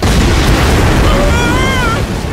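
A loud, sustained blast roars in a video game as a warship-scale explosion and its shockwave hit, a dense rumbling wash filling the whole clip with faint whining tones rising through it.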